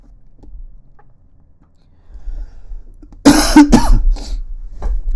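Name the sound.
coughing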